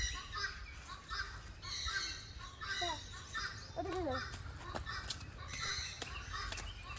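Several birds calling from around near Pelling, mixed chirps and harsh caws with rising and falling whistles, over a steady outdoor murmur and distant voices.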